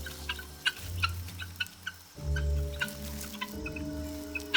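Guinea fowl calling close by in a repeated run of harsh, rhythmic clucking cries, loud and layered as several birds call together, with sharp clicks and a low rumble underneath.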